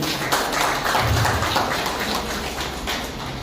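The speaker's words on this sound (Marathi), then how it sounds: "सगळ्यांच्यासाठी एक खास जोरदार टाळ्या होऊन जाऊ दे" Audience applause honoring women at a Women's Day event for state transport staff: steady, dense clapping from a crowd throughout, fairly close and even in loudness.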